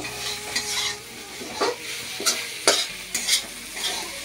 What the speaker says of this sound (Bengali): আমার ঢেঁড়স ভাজাটা হয়ে গেল। এখন নামাচ্ছি।